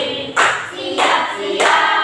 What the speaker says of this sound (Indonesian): maaf nanti beri tepuk tangan ya